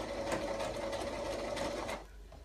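A sewing machine stitching fabric while sewing up a stuffed toy, a close, steady mechanical whir with rapid needle pulses for about two seconds before it stops abruptly.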